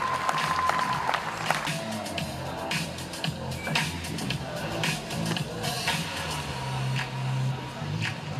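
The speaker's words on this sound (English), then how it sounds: "give him another round of applause" An audience applauds Fiji Rugby Sevens men's captain Osea Kolinisau at a national sports awards ceremony, with sustained, moderately distant clapping that continues for several seconds under a faint background hum.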